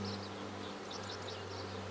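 Mountain Grey Caucasian honeybees hum in a steady, low, continuous drone throughout, with no voices over it.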